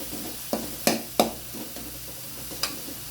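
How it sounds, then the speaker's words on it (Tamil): Onions and tomatoes sautéing in a pan, a soft steady sizzle broken by several sharp scraping stirs and clinks of a spoon against the pan, close and with no voices. "வெங்காயம் நல்லா வதக்கியதுடன் தக்காளியை போட்டு வதக்கணும்."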